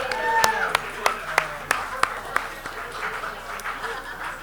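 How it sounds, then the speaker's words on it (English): A small group at a Rotary meeting in an urban winery claps in a handful of distinct claps spaced about a third of a second apart, fairly near, with voices talking and cheering over them. "Let's give Eric a round of applause."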